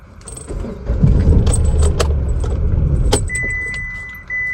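A car being started and driven off: keys jangle and clink, then a low engine rumble rises and holds steady, close and fairly loud, with a thin high tone joining near the end.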